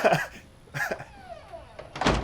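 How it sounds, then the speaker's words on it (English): A door shuts in a TV drama scene, a short thud at the start followed by muffled movement and a louder knock near the end, with no talk over it. "You didn't have to close the door."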